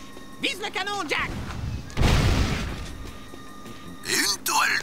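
Cannon turret in the Jak II video game firing and then being blown apart, a heavy boom and crashing burst in the middle, with synthesized game voices talking before and after.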